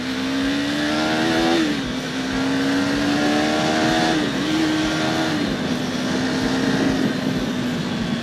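A 2024 KTM Duke 390 motorcycle engine riding through city traffic in street mode, with a steady, smooth drone that climbs and dips through several gear changes, loud and close with no talking.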